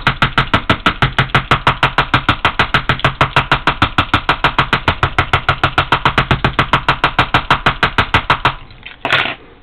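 Keys striking and scraping across the screen of a Dell Venue Pro phone, a fast, steady run of sharp, evenly spaced loud taps for about nine seconds, followed by a brief rustle.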